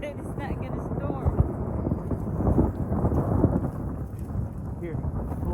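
Deep rumbling thunder rolls through a thunderstorm over a pasture where an electric fence is being fixed at a water gap, a low sustained roar swelling and fading, with wind buffeting the microphone.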